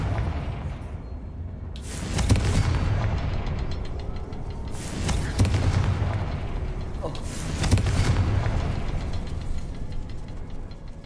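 Three booming blasts from the Confringo spell in Hogwarts Legacy, each a heavy explosion followed by rumbling debris, spaced a few seconds apart over a low ambient drone.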